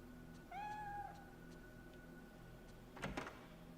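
In the Fatal Frame III video game, a pet cat meows once, a clear rising cry near the start, followed a couple of seconds later by a brief knocking or sliding thud, all faint over a low ambient hum.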